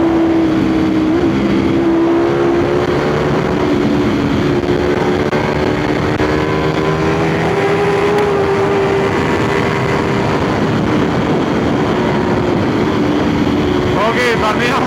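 A 2019 Ducati Panigale V4 motorcycle being ridden, its engine droning steadily and loudly with shifting pitch under heavy wind rush, while a rider talks over it.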